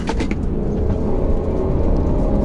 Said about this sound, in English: Suspension, that's what the new C300 is good at. Absorbing bumps.